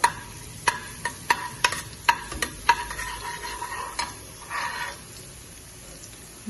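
Ground garam masala frying in oil for mutton paya: a soft sizzle under a run of sharp, evenly spaced spoon clinks against the pan, then quieter stirring.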